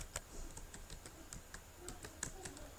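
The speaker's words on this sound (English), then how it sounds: "So what sentence should I type?" Close, quiet keystrokes on a computer keyboard, tapping in an irregular run of soft clicks with no voices.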